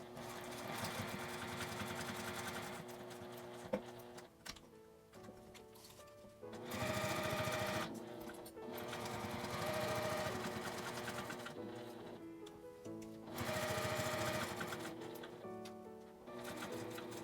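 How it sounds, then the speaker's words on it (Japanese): Sewing machine stitching a small round zipper pouch, running in loud rapid bursts with short pauses between them and a few clicks during the pauses, no voices. "金具の位置を超えたらまたミシンで縫います。"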